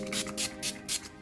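Ulta Beauty Dewy Glaze setting spray misted onto a face in close, quick pumps, four soft breathy hisses in an even rhythm, near and alone.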